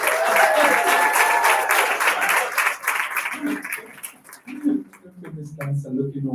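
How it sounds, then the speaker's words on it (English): Graduation crowd at the African Science Academy breaking into sustained applause with scattered whoops, fading after a few seconds as voices and cheering take over. "Round of applause, please."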